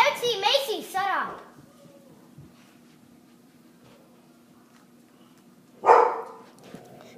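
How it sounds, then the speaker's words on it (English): Household dogs bark in a close, loud flurry at the start, then go quiet before one more short bark near the end, with a voice also present. "Sorry, those are my dogs."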